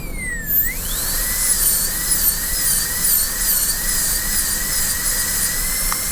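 A dental drill burr preparing a canine tooth runs as a steady, close, high-pitched whine that dips and rises once near the start, then holds with slight wavering, alone with no talk.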